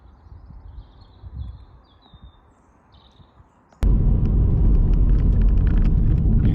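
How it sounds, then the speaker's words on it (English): A Hyundai i30N fitted with a Forge Motorsport turbo elbow, with induction suction under downshifting. Quiet low rumble and faint birdsong give way to an abrupt, loud, close engine roar that holds steady to the end. "you can hear there's more suction noise from the induction."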